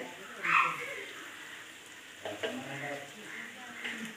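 Onions with a pinch of salt being stirred as they sauté in a pan, a soft sizzle with scraping spoon strokes that pick up in the second half, fairly close and moderately loud, no talk.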